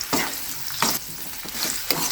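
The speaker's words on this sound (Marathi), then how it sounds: "ह्या कारल्याला तेलामध्ये तळणं चाललं" Oil crackles and sizzles around bitter gourd frying, broken by a few short scraping stirs of a spoon in the pan.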